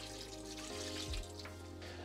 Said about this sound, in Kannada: ಸ್ವಲ್ಪ ಮಿಕ್ಸಿ ಜಾರದ್ದು ನೀರು